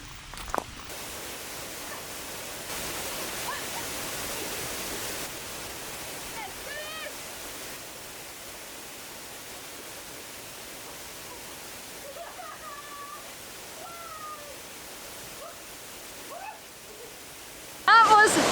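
Steady, hissing rush of a waterfall in the Spanish Pyrenees fills the scene throughout, with faint voices surfacing now and then.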